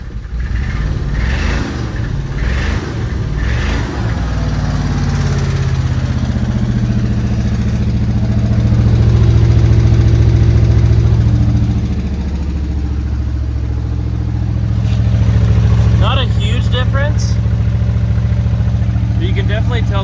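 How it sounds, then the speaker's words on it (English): A 1970s car engine fitted with smaller mufflers runs nearby with a loud, steady low exhaust rumble, swelling slightly in the middle, while a person talks over it at the start and end. "What an interesting sound this car makes."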